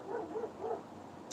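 A dog barks outdoors, a few muffled bow-wow barks in a short rhythmic burst at moderate distance, faint and unaccompanied by talk.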